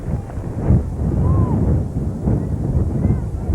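Strong wind gusts buffet the microphone at an outdoor softball game, making a continuous low rumbling roar that swells and eases, with a faint voice in the background.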